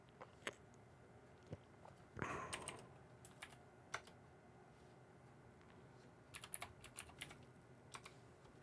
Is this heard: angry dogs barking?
no